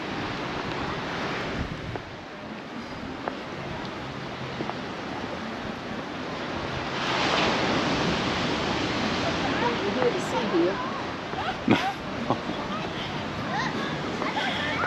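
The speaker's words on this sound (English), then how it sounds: "you can't see the big waves coming in, they just seem to just hit the beach" Waves break and wash onto the beach at Magaluf, Mallorca, a continuous rushing surf with some wind buffeting the microphone and a swell in intensity midway through, with no talk over it.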